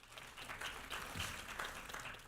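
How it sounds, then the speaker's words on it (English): Fairly quiet applause from a community forum audience in Soweto, a scattered patter of clapping that swells slightly and holds steady for a couple of seconds. "Can we give them a round of applause?"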